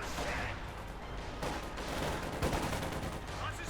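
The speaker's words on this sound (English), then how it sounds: "Am I hearing some artillery? Yes, indeed, we've got a howitzer up here bombarding the Schwerpanzer" Howitzer artillery bombards a heavy tank in a Company of Heroes 2 match, with a dense, continuous din of booming impacts and rattling gunfire filling the whole stretch.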